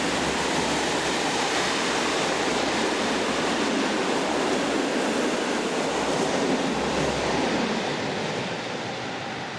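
Locomotive 150065 descends a grade hauling a northbound army special, a steady broadband rumble and rush of wheels and train noise, loud and continuous throughout with no voices.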